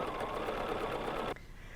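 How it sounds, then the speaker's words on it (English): A sewing machine stitching through a quilt runs in a steady, loud, continuous whir, then cuts off abruptly near the end, leaving quiet room tone. "the needle waits and starts stitching when I start moving"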